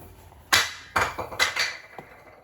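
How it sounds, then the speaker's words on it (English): Several sharp clattering knocks and bumps as a dog pushes objects off a desk onto a hard surface, scattered over a couple of seconds, fairly close. "he started pushing things away from the desk"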